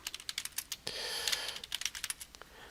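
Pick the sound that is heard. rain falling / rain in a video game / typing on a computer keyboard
typing on a computer keyboard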